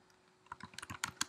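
Someone types an apt-get install command on a computer keyboard, a quiet, close run of quick key clicks that speeds into an irregular patter, with no talk.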